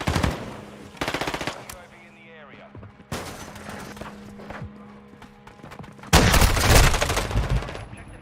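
Gunfire in the video game Modern Warfare II: bursts of rapid automatic fire come in loud clusters, the last and heaviest near the end, with someone talking between them.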